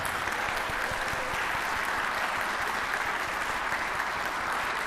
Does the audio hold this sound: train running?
no